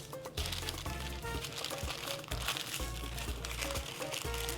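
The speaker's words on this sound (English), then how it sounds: "And then you fold the parchment paper over." Parchment paper folded over moist lemon zest for freezing, a close, continuous crinkling and crackling with uneven bursts of rustle and a few sharper crunches, with no talking.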